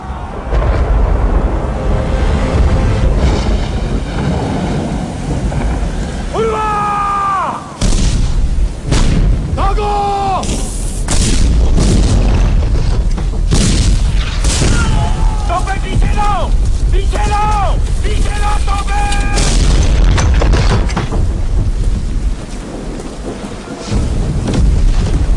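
Heavy cannon fire in a battle scene from the film Panipat, booming blasts and rumbling concussions across a long stretch, mixed with shouted voices and battlefield noise.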